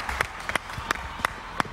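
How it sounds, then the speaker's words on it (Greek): Audience applause for a participant at a magician's live show, a short burst of scattered individual claps, about four or five distinct hand claps over a couple of seconds. "Ένα θερμό χειροκρότημα στη φίλη μας."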